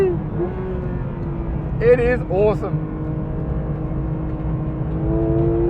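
A flat-six sports car engine drones loudly and steadily, its pitch climbing slightly toward the end, with someone speaking briefly over it.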